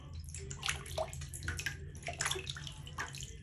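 Water splashes and trickles in a bathtub while a bearded dragon is bathed, with soft bursts of pouring and dripping at close range, quiet and continuous without speech.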